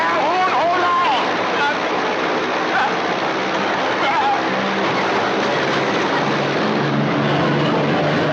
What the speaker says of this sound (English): There's some crazy guy taking off out of the hangar over there.